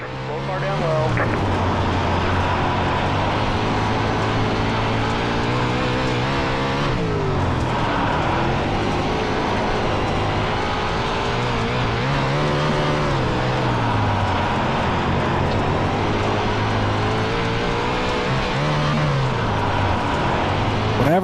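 A 360 sprint car racing at Limaland, heard from on board: the engine roars loud and close without a break, its pitch rising and falling through the laps with a brief dip partway through.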